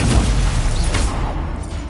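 Incendio fire spell cast in Hogwarts Legacy, a short loud booming burst with a low rumbling blast that fades over about two seconds.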